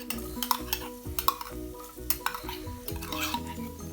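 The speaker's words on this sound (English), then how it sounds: "Now let the garlic cook for about 30 seconds to 1 minute. Stir it well, ensure it doesn't get burned." Chopped garlic frying with curry leaves in a pan for coconut garlic prawns: close, busy sizzling with repeated clinks and scrapes of a spoon stirring against the pan.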